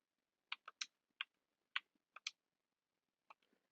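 Sparse keystrokes on a computer keyboard as a short chat message is typed: a few quick clusters of crisp, close clicks separated by pauses, ending with a couple of lighter taps, with no talking.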